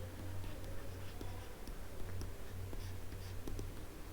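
Pen writing out a steady-state error equation, producing a soft, continuous scratching with small ticking strokes, close by and fairly quiet over a low background hum.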